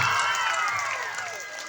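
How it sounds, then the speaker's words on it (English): An audience clapping during a brain yoga performance, a brief burst of dense applause mixed with some cheering voices, loud and sustained, tapering slightly toward the end. "Claps all of you."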